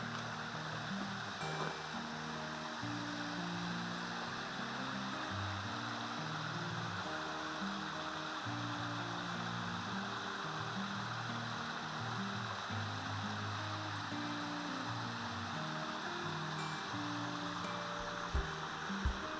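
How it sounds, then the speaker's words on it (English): A small woodland creek near Haw Creek Falls flows with a quiet, continuous rush of water, while soft music plays underneath it throughout. "just listen to that water"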